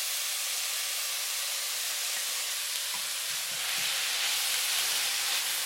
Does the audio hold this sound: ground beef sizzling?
yes